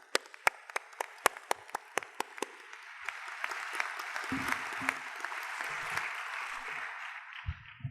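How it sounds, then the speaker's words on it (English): Applause at a teachers' investiture ceremony welcoming new teachers: a few sharp individual claps at first, then a broad, moderate wash of clapping from the audience that swells and holds to the end. "please join me in a round of applause to welcome our newest members of the teaching fraternity"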